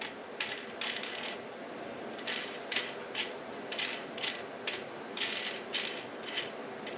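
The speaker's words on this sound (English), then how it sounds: "then to lock it into place, then you put the wing nut on" A wing nut is spun onto the bolt of a Ridgeline dueling tree steel target, producing a quick run of light metallic clicks and scrapes in a steady rhythm, close up with no talking.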